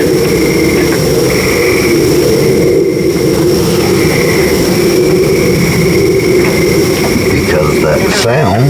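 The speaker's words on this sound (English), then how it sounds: "Hear those frogs going off to that jet flying over." A jet roars loudly overhead in a sustained low rumble, while faint frog calls pulse in the background.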